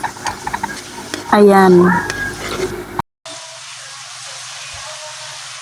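Pechay leaves are stirred into ground pork in a frying pan. A voice speaks over clattering at first, then a steady, close sizzle hisses on alone.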